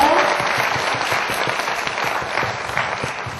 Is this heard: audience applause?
yes